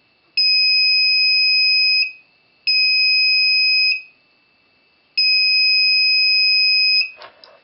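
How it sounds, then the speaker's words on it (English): A laser tripwire alarm buzzer sounds in three loud, steady two-tone beeps, each lasting over a second with short gaps between, followed by a faint rustle at the end. "As long as the laser is breached in darkness, the output of the buzzer will sound."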